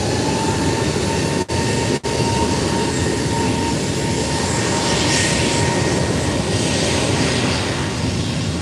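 An airliner takes off at Málaga Costa del Sol Airport, a loud, steady jet engine roar filling the whole stretch, heard from close range and briefly interrupted by two short dropouts.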